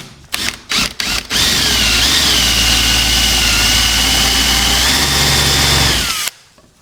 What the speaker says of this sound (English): drill it just a little bit more with this one